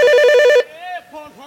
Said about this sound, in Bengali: ওই রে ফোন